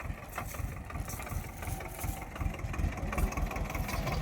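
A tractor engine idles steadily nearby during watermelon loading, a continuous low rumble with a faint rhythmic knock and no talking.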